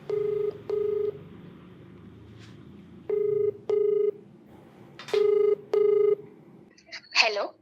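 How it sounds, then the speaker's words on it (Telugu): Keypad tones sound in short paired bursts while a phone call is dialed, clear and close, followed by a brief burst of ringing at the end. "సో మరి ఒకసారి కాల్ చేసేస్తానండి లేట్ చేయకుండాను"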